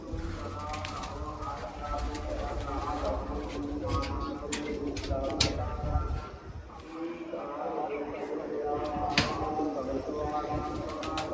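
Pigeons coo in a loft, soft repeated calls under a steady murmur of birds, with occasional sharper chirps close by and some background noise throughout.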